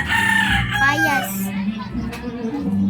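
On a farm, a rooster crows close by, a strained rising-and-falling call, with chickens clucking around it and a voice faintly in the background.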